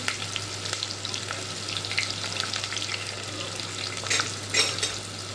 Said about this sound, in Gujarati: હવે મસાલા થઈ જાય એટલે આપણે એમાં ડુંગળી નાખી દેવાની